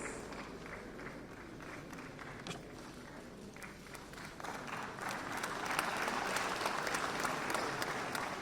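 Sustained audience applause at a national film awards ceremony in a large hall, a dense wash of clapping that swells louder in its second half, honouring the Malayalam film Ayyappanum Koshiyum.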